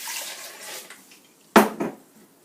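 A cup of water poured into a food processor while making sweet potato and red pepper bisque: a brief, loud splash with a second smaller pour after a stretch of soft kitchen noise.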